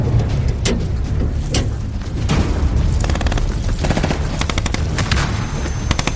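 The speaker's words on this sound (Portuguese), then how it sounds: "Quem está cá fora ouve os disparos das metralhadoras e as granadas a rebentar." Rapid bursts of machine gun fire crackle together with heavier blasts from exploding grenades during a police assault on an embassy in 1983 Portugal. The shots come in loud, dense volleys, one after another, with no speech.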